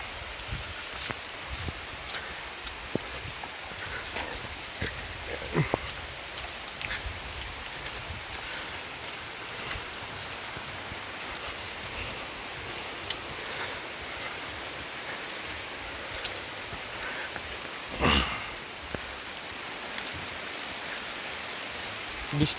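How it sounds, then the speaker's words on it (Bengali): Rain falls steadily on a hill road near Guabari in Cachar, Assam, a constant soft patter with scattered louder drops and rustling, continuing evenly with no speech heard. "বৃষ্টি পড়ছে"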